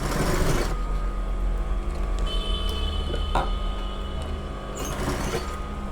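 A sewing machine stitches lehenga fabric with a steady, continuous mechanical whir and hum, close by, with a few faint clicks and knocks along the way.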